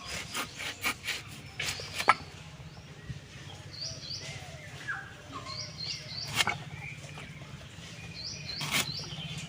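A knife cuts a tender young home-grown jackfruit in irregular rasping, sawing strokes, some close and sharp. Birds chirp faintly now and then in the background.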